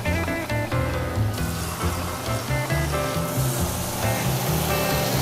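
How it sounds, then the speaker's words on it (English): Water poured into a hot pan holding rinsed black beans, a loud close rush and sizzle that shifts to a steady bubbling hiss, with clinks and knocks of cookware. "I'm gonna add like 2 cups of water to it."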